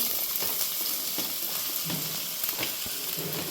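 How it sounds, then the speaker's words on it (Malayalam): Onions for samosa filling crackle in hot oil, a dense steady sizzle with faint scraping and stirring knocks, close by and without speech. "അപ്പം നമുക്ക് എണ്ണ ചൂടായിട്ടുണ്ട്, അതിൻ്റെ അകത്തോട്ട് ഉള്ളി ചേർത്ത് കൊടുക്കാതെ"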